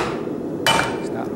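A single sharp hammer strike flattening sheet metal at a blacksmithing demonstration, one brief bright metallic clank against quiet room ambience.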